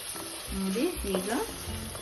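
Fenugreek leaves, green peas and onion frying in ghee in a pan, a steady soft sizzle with a few stirring scrapes throughout, close and moderately loud.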